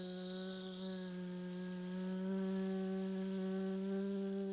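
Several voices hum together in a steady, bee-like buzz, imitating a bee with a sustained harmonic drone that holds evenly and swells slightly partway through, during a yin yoga class.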